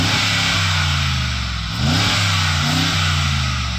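Mercedes-AMG G63 engine revving up close, a loud steady roar that dips briefly and then climbs sharply again, holding a high, rumbling pitch with no talk over it.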